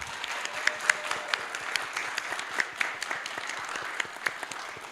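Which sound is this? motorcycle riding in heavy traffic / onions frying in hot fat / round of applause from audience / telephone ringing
round of applause from audience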